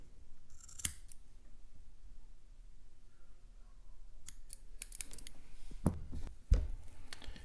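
Scissors snip cotton wicking at the end of an OFRF Gear RTA vape atomizer base, a sharp close click near the start and a few more quick cuts toward the end over quiet background.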